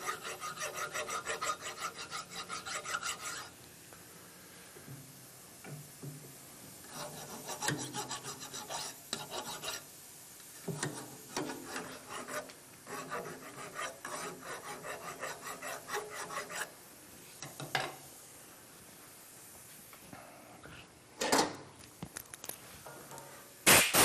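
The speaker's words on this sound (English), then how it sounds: "I'm going to get rid of any burrs around the edge of that hole." Metal file rasping away burrs around the edge of a hole, done while balancing counterweights or bob weights, in repeated bursts of scraping strokes with short pauses between them, close up and with no talk.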